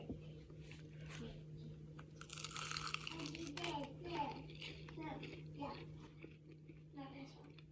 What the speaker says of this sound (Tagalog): Pakinggan mo ito, ganito siya kalutong.